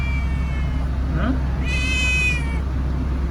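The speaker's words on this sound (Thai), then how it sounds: "มีเจ้าเหมียวด้วย" A cat meows twice at a car repair garage, a short rising call followed by a longer, clearer meow, set over a constant loud mechanical hum of the workshop.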